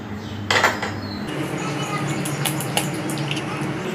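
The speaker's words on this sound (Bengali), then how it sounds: "তো আমি ডিমগুলো ফাটিয়ে নিচ্ছি।" Two eggs cracked open into a bowl for sweet pitha batter, a sharp tap followed by a short wet clatter, then faint scraping and dripping in a quiet kitchen.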